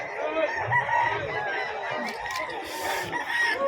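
Several roosters, including fighting cocks, crowing and chickens clucking nearby at a Bocaue animal market, overlapping calls against a busy background of birds and murmuring.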